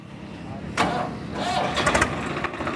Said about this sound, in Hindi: तो भाई जी ट्रैक्टर स्टार्ट हो लिया हमारा।